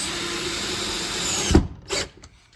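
Power drill driving screws into the wooden frame of a jalousie window, a steady continuous whir that cuts off sharply near the end, followed by a couple of short bursts, close and loud.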